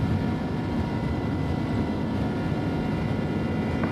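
Airbus A300-600R jet engines spooling at takeoff thrust in the X-Plane 11 flight simulator, a steady, loud, broadband roar holding evenly throughout with no talk.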